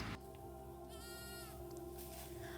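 Goats shown at a community farmer event bleat in a single wavering call over a steady, loud background hum from the crowd and surroundings.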